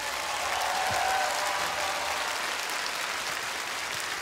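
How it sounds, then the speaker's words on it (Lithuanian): A studio audience at a televised singing competition keeps up sustained, even applause, a broad wash of clapping that holds steady throughout, with no speech. "Nerealu, duokit dar daugiau aplodismentų"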